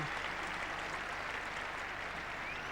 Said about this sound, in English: Applause for the 100 partnership.